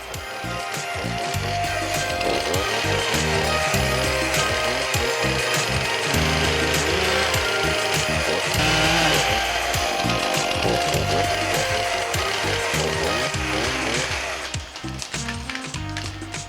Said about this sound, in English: cutting it with the saws, and clearing a path